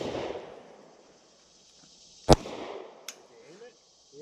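A firearm fired at an outdoor shooting range gives one sharp, loud crack, followed moments later by a fainter snap, with people talking quietly before and after.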